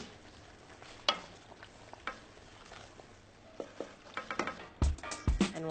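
A spoon scrapes and clinks through a pot of shrimp jambalaya, sparse knocks early on giving way to a quicker flurry of stirring strokes near the end over a faint, low simmer.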